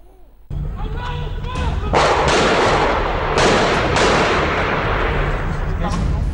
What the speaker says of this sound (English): 3 masked gunmen barged in and opened indiscriminate fire